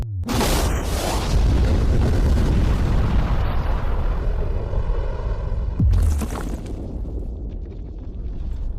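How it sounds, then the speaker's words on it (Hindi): A huge, loud explosion erupts with a deep booming roar that rumbles on for several seconds, followed by a second blast and lingering rumble. "लेकिन ये एक असली धमाका है।"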